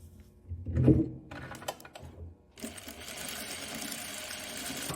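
A sewing machine stitches gauze fabric straps, running in a steady, fast mechanical whir for the last couple of seconds after a few handling clicks and thumps, fairly quiet and with no talking.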